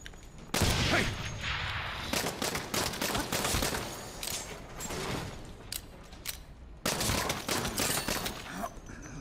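Repeated bursts of gunfire in the Saints Row video game, loud and close, mixed with mechanical clanking and rattling between the volleys.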